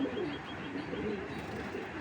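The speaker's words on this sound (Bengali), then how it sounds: "এইটা হলো অরিজিনাল স্প্যানিশ পটার নর" A Spanish pouter pigeon, a male, gives soft, continuous low cooing close by, faint and steady against quiet background noise.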